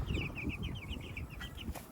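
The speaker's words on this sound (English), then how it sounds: "there's chicks right there" Cornish Cross chicks in a coop give a steady run of high, close peeping chirps, repeating quickly over low rustling and background noise.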